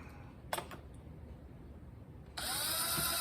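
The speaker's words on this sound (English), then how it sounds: "I don't want to take a chance on having the drill bit hit the head, and we'll put one right there." A few brief clicks and taps, then a power drill starts up and whines steadily at close range as it drives a screw into a jig base.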